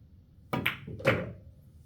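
A pool shot in an 8-ball game, with left spin on the cue ball: a sharp cue strike followed by a second knock as the ball rebounds off a cushion, close and clear with no talk.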